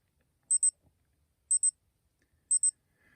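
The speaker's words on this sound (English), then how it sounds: "you want to hear what the alarm sounds like?" Alarm of a Citizen BL5400-52A perpetual calendar chronograph watch: three evenly spaced bursts of a high, thin electronic double beep, about one second apart, close and clear against near silence.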